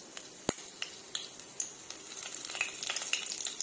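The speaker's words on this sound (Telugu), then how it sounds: "ముందుగా ఇలా ప్యాన్ పెట్టుకొని ఆయిల్ వేసుకొని వేడి అయిన తర్వాత కొంచెం సోంపు, లవంగాలు వేసుకొని ఫ్రై చేసుకుందామండి." Fennel seeds and cloves fry in hot oil in a pan with a light crackling sizzle, broken by a sharp pop and scattered small clicks and spits, quiet and close, with no one talking.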